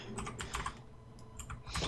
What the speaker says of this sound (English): Marcus is typing